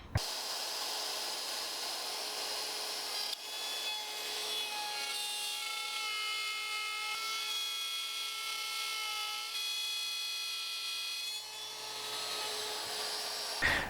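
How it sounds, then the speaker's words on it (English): A woodworking router with a straight bit cuts a stopped dado, giving a continuous high whining drone with shifting tonal bands, steady and close for the whole stretch, no voices. "Now I can bring my router back in and make my cut."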